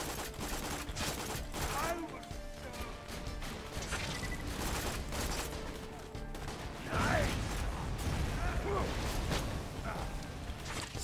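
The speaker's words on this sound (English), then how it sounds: "Look how fast I can fire." Rapid weapon fire in Borderlands 2, with dense, continuous bursts of shots and mechanical clatter running for the whole stretch at a steady, loud level. A voice speaks over the gunfire now and then.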